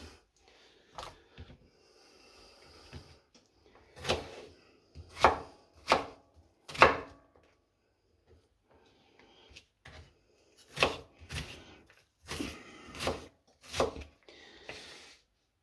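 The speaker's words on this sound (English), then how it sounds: "very simply, cut across the grain, then cut into cubes" A knife chops onion into cubes on a board for tattie and leek soup, sounding as sharp, close, irregular knocks in short bursts separated by pauses, with no talking.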